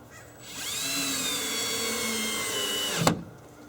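A power drill drives a self-tapping screw into a Tuff Shed door, a close whining motor that rises and holds steady for a few seconds, then ends with a sharp clunk as the screw seats.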